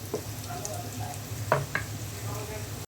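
Bay leaf sizzles with onions in a pan of oil for pilau rice, a steady frying hiss with a few scraping stirs and clinks, close and moderately loud.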